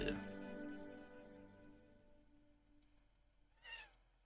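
A cat meows softly once near the end, faint and somewhat distant, after a stretch of quiet low background noise.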